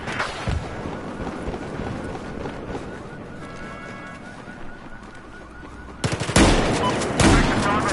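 Machine gun fire in the video game Battlefield 4, a dense sustained rattle of rapid bursts with game effects layered over it, growing louder and harsher in the last two seconds.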